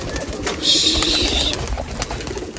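A black pigeon coos close by while a fluttering rush of wings briefly rises and passes over a steady outdoor background near a tower.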